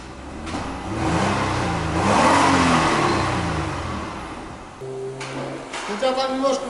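A Nissan Teana with a leaking exhaust revs up and settles back, the engine note rising and falling under a hissing rush, followed by a steady idle tone at the end.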